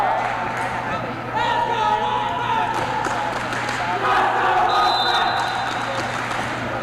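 A large crowd murmurs and stirs through a gym at a boys volleyball senior night, a steady broad din with scattered claps and shouts, a higher tone briefly rising.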